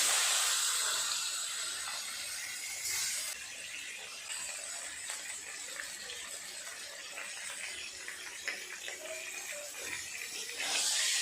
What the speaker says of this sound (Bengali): এই মাছগুলো সব ভাজা হয়ে যাচ্ছে